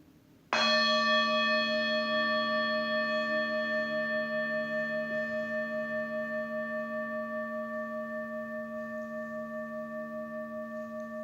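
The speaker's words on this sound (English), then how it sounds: "I'm going to sound the bell for the meditation." A meditation bell is struck once, ringing out with a clear rich tone that lingers and slowly fades with gentle pulsing over several seconds in a quiet room.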